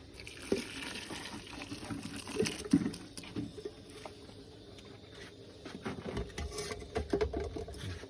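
Water rolling at a boil in a cooking pot for poaching fish heads, a soft continuous bubbling patter with a few sharper pops, steady and fairly close, without voices.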